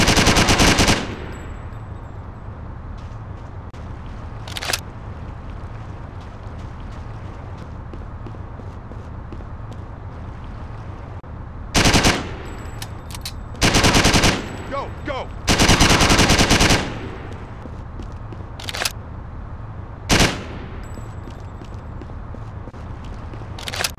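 Video game gunfire in Driv3r during a yacht mission: sharp bursts of automatic shots in several separate volleys, some short and some sustained, loud over a steady background hum.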